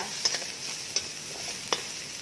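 Constant sizzle of hard vegetables such as carrot and corn frying in a hot wok, with three sharp metallic taps of a utensil against the pan at irregular intervals.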